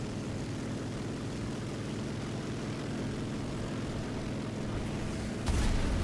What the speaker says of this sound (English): Oh, enemy plane on me.